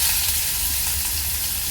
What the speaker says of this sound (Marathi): यामध्ये बारीक चिरलेला आणि मिरची टाकायची आहे